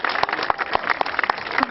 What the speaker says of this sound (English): Ladies and gentlemen, thank you for that round of applause.